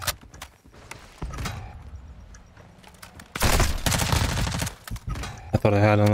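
Bursts of gunfire in a Call of Duty match, scattered shots early then a loud sustained volley toward the end, with a player talking alongside.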